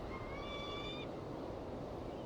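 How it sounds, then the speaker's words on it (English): A bird in the game Syberia gives a single drawn-out, whistling call lasting about a second over a steady background wash, then only the ambient hiss remains. "There's a lot of birds"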